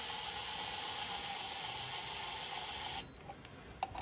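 A ratchet threads bolts into a Polaris 9R clutch cover, giving a steady, close mechanical whir with a high whine for about three seconds, then stopping and leaving a few faint clicks and knocks.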